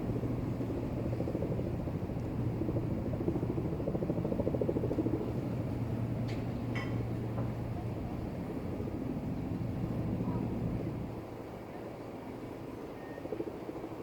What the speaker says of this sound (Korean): 또 다른 헬기도 한 대 또 날아가고 있습니다